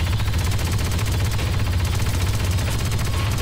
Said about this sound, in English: Sentry gun online.